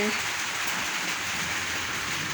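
Rain falls steadily as an even, dense hiss of drops on surfaces, close and continuous throughout with no pauses.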